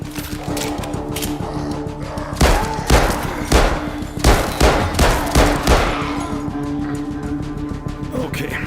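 A rapid burst of gunfire crackles in several bunched volleys through the middle of the VR game Arizona Sunshine II, with game background hum and faint chatter around it.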